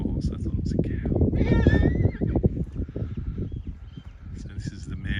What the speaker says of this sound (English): No, it's a neighbour's horse.